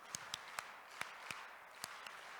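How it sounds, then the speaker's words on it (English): Sparse, separate claps ring out at a school expo's closing ceremony as an audience claps along in rhythm, around eight sharp hits spaced unevenly over faint room noise. "Can you clap 3 times?"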